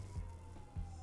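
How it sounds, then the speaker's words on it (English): Police siren wailing somewhere outside, faint and distant, a thin steady tone carried under low room noise with a couple of soft thumps nearby. "I hear a police siren outside"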